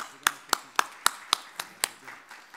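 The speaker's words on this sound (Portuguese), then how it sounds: "Uma salva de palmas para ele." A few separate hand claps at a communications congress in Brazil, about eight sharp evenly spaced claps, close and fairly quiet, with no crowd swelling in.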